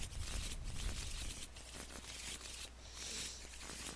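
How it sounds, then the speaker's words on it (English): Playing cards for a tabletop card game being shuffled quietly, with a steady run of soft riffling and crinkling taps for several seconds and a brief pause partway through. "we are just super shuffling."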